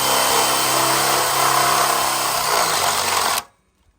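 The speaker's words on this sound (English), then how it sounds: "So now I'm going to go ahead and I'm going to drill this." Loud, continuous motor whir of a heavy power drill running for over three seconds, then abruptly stopping into near silence, drilling while installing cross brace brackets on a rolling barge bridge.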